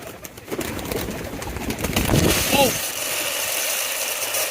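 Pigeons coo softly in a loft during hot weather, low rumbling calls blended with fluttering and background mechanical noise, while a person talks over them.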